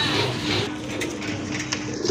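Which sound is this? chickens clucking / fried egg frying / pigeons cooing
pigeons cooing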